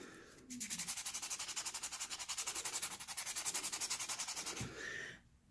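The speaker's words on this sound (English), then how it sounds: "we'll do like across and haphazard with the sanding just to see how it comes out" Sandpaper is rubbed across a polymer clay cabochon in quick, even back-and-forth strokes, about four per second, a close and fairly soft scratchy rasp that runs for several seconds, then slows and stops.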